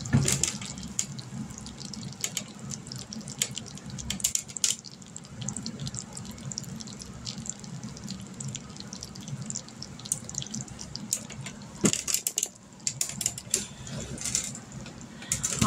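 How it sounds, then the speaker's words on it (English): Caramel topping on turtle brownies fresh from the oven sizzles and bubbles steadily up close, a continuous crackling hiss with scattered tiny pops and clicks throughout. "I'm going to put you down here really low to see if you can hear those, that caramel just sizzling."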